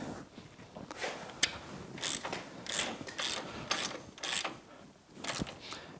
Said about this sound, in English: Go ahead and get this castle nut started.